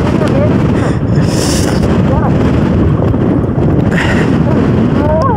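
Strong wind roars across an Idukki hilltop, buffeting the microphone in a loud continuous rush, with a few faint voices and whistling sounds caught beneath the gusts.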